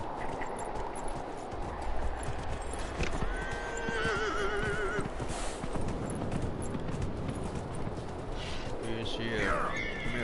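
A horse in the video game Dragon Age Inquisition whinnies twice in the middle while its hooves clip-clop steadily throughout, with someone talking over the game sounds.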